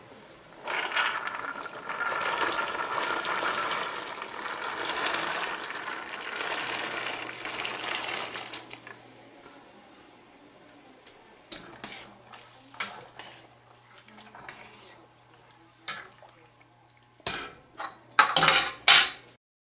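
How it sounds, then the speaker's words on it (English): Dry pinto beans are dumped into a pot of boiling water, a rushing clatter and rattle of beans against metal lasting several seconds, followed by quieter stirring, bubbling and a few sharp clanks of utensils on the pot. "now we're ready to dump our beans in here."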